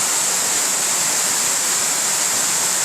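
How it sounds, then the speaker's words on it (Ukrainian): Maniava waterfall in the Gorgany mountains roars as a steady, loud, broadband rush of falling water. It stays unbroken throughout, with no voices. "От водоспад Манянський."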